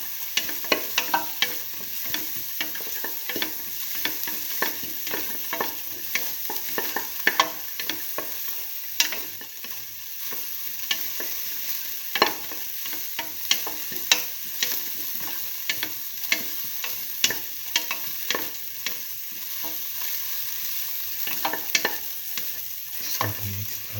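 A split mung bean and tomato stew sautéing in a pan while being stirred steadily, with a constant sizzle broken by frequent sharp scraping and clacking of the utensil over about twenty seconds.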